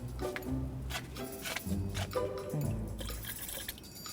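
Water poured from a container and stirred into fermented tape liquid, with soft close splashing, dripping and sloshing in uneven bursts at low level, and no voices.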